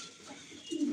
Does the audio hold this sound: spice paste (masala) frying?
no